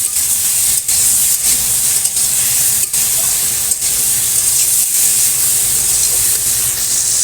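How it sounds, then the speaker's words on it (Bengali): Pointed gourd pieces sizzle loudly in a hot pan as they are stirred, a continuous close hiss with brief dips where the spoon moves, and no voices. "পটলগুলো দিয়ে দেবো দিয়ে একসঙ্গে নাড়া করবো"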